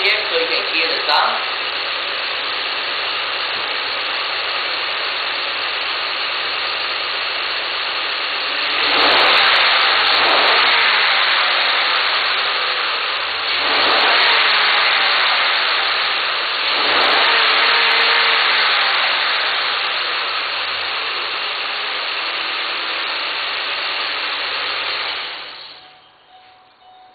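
A 2010 Ford Sport Trac engine idles under a loud, broadband roar, then swells three times as the throttle is blipped to higher revs before dropping away and cutting off near the end.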